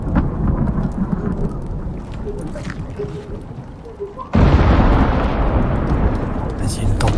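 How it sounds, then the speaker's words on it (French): A dry thunderstorm rolls through the survival video game Icarus: a dense wash of rain and rumbling thunder that jumps abruptly louder partway through, with voices talking faintly beneath. "une tempête sèche en plus"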